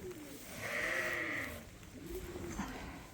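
A sheep on a lamb-rearing farm lets out a drawn-out bleat, then a second shorter one, close by against a steady outdoor background.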